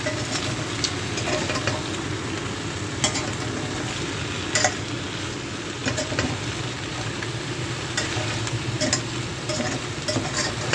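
Eggplant fries steadily in a pan, a continuous even sizzle with occasional soft clicks and stirring scrapes, close and fairly loud, no talking.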